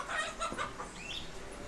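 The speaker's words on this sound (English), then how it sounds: "The roosters say, aho." A few short clucks and crowing calls from roosters ring out close by in quick succession, then a longer rising call follows against a quiet background.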